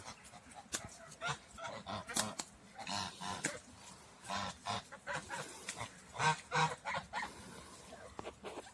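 Geese honking in a loose, irregular series of calls, some loud and close, others overlapping, with a few flapping or scuffling sounds between them and no talking.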